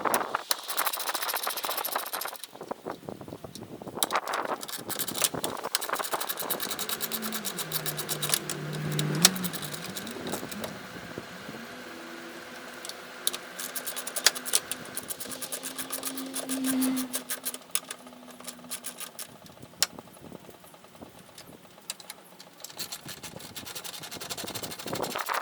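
A power tool works loose the bolts holding a car's headlight, giving short buzzing whirs that rise and fall in pitch. Clicks and rattling handling noises surround them, and the sound is fairly faint and close.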